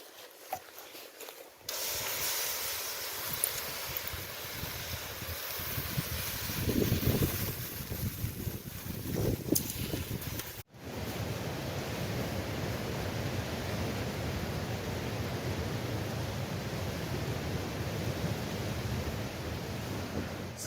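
Strong gale wind gusting across a wild campsite beside St Mary's Loch in the Scottish Borders, a dense, continuous roar that surges and swells like breaking surf and stays loud and close with no pause.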